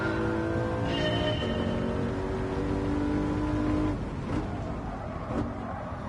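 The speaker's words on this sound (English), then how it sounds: "You can hear it's blowing the tires off right now." Lexus LC 500 in Gran Turismo, its engine droning steadily with a sustained harmonic whine as the tires spin and slip, moderately loud and continuous, with the pitch shifting slightly partway through.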